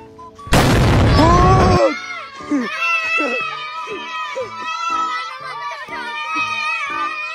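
A homemade boga PVC cannon built from a Wilkins bottle fires one very loud, close blast. Excited children shout and chatter afterward.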